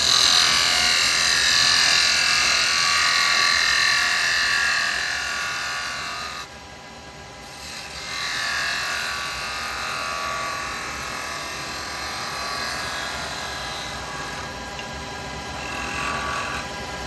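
Carbide chisel cutting a taper on a spinning workpiece on a wood lathe, a steady high whirring scrape that runs continuously, dipping briefly midway before resuming at close range.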